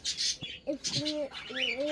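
Parrot chicks being fed chirp and squawk in short, close calls, several bursts of high, rising and falling notes in quick succession.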